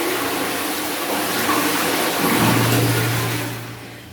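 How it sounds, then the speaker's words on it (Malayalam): A toilet being flushed into a septic tank gives a steady broadband rush of water that swells midway and then tapers off, close and loud with no talking. "ഇത് ഇങ്ങനെ ഫ്ലഷ് ചെയ്ത് വിടുക"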